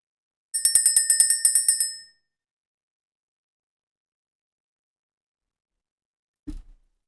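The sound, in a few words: bell being rung to clear the energy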